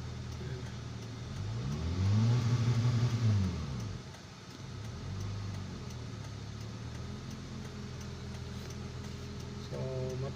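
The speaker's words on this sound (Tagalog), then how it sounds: "Pakinggan nyo lang guys yung makina, dahil yung RPM nya sira yan" A vehicle engine that runs rough, starts hard and pulls weakly idles steadily up close, with one rising and falling rev around the middle before it settles back to a low, uneven drone.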